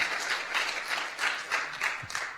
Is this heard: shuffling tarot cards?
no